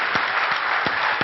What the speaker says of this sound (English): How about a nice standing applause for Doyle Brunson?